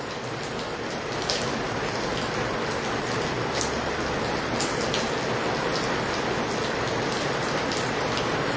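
Heavy rain in Hisar pouring steadily onto surfaces, a dense continuous hiss with scattered louder drop splatters, close and unbroken throughout.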